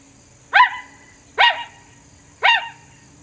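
A hunter's diaphragm call imitates coyote barks, giving three sharp, separate barks spaced about a second apart, each loud and close with a quick fall-off.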